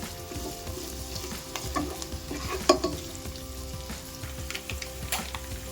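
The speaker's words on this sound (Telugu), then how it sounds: "వీటిని కొద్దిగా ఫ్రై చేసుకుంటున్నాను." Sliced onions, curry leaves, cumin and two broken dried red chilies frying in hot oil, a continuous close sizzle with scraping stirs and occasional sharp pops, no voices.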